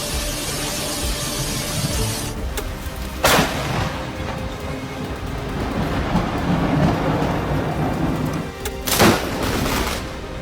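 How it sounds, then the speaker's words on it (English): The edge of a rainstorm passes in steady, loud, roaring rain and wind, broken by a few sharp cracks and thuds. "Ever see the edge of a rainstorm?"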